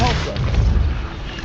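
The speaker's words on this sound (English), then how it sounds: "Depulso!" Depulso force spell in the video game Hogwarts Legacy: a short, loud booming blast with a deep rumbling thud that lingers briefly before fading.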